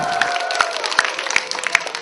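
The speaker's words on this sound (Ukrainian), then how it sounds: "Гучні оплески та плакати підбадьорювали маленьких красунь." An audience of teachers, parents and classmates at a children's beauty pageant applauds and cheers, a busy crowd roar with scattered sharp claps and a few whistles over it.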